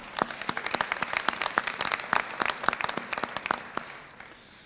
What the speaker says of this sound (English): I think you all should give yourself a round of applause